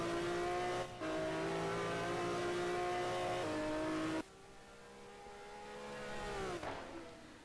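A race car in a GT1 racing video game at Laguna Seca screams at high revs, then the engine note drops sharply as it slides sideways under braking, with a fading lower drone afterward.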